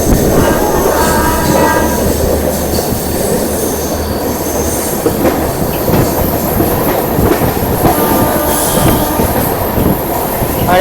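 An Indian Railways train travelling from Mumbai to Delhi, heard from on board as a loud continuous rumble with clickety-clack of wheels on rail joints and occasional squeals of wheels.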